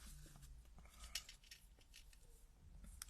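Scissors snip through paper while a greeting card is made, a quick series of faint, close cuts with soft paper rustling in between.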